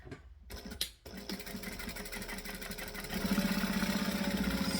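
Sewing machine stitching rainbow fabric. After a brief stop-start it runs as a steady, close mechanical whir that grows louder and faster over the last couple of seconds, with no talk.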